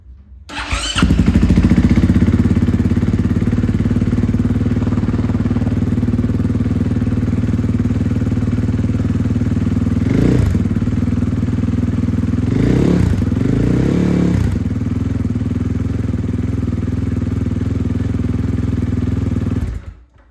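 A 2020 KTM 500 XCF-W dirt bike with an aftermarket billet exhaust end cap fires up and idles loudly and steadily with a deep exhaust note, with a few brief revs and clatters midway before cutting off.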